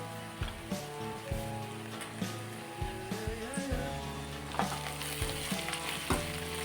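Vangibath spice powder fries in a pan with a quiet, steady sizzle. Soft stirring clinks come through now and then, under a background of tonal music.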